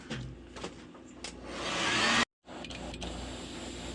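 A heat gun blows hot air to heat-set paint on a jointed glide bait. It gives a steady motor whir with a hissing airflow that builds in loudness, cuts out briefly, then resumes close to the mic with no talk.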